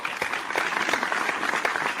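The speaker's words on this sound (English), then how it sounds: "That deserves a round of applause" A short round of applause, with a crowd clapping steadily at moderate volume, fills the moment without any speech over it.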